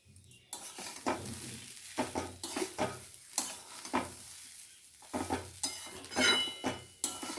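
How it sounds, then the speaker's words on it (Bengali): Dalia cooking in a pot with a little salt and sugar, stirred in uneven bursts of scraping and soft clinks of a spoon against the metal, with quiet pauses between strokes and no speech. "মিনিট 5 আমি এইভাবে নাড়াচাড়া করে নেব।"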